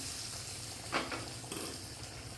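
Quiet, steady sizzling of spices tempering in hot oil for sambar, with a brief louder crackle and stir partway through.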